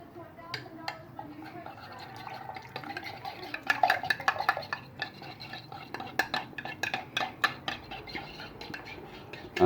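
Seasoning paste being stirred with a splash of water for chicken adobo, a spoon scraping and clinking against the bowl in quick irregular taps that grow busier toward the end, close and moderately loud with no talking.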